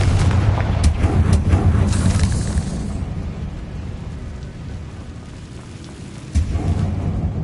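A Confringo spell explosion in Hogwarts Legacy, a loud blast followed by a dense rolling rumble that slowly fades, then a fresh thump near the end.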